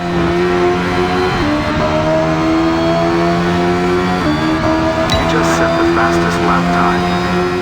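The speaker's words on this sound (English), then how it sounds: "Here is the Brabham BT24 on the Jarama circuit, which is a car which raced on this track at the time." A Brabham BT24 racing car screams around the Jarama circuit in the Hot Lap Racing game, its steady high-pitched engine drone holding near and loud, dipping briefly on gear shifts and lifts before climbing again.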